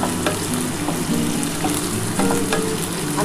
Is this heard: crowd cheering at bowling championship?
no